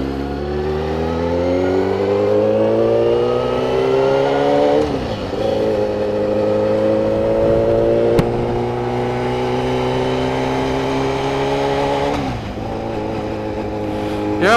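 A 2002 Suzuki GSX 1000R motorcycle accelerating on the road, engine pitch climbing steadily through gears with two clear shift breaks, loud and close throughout.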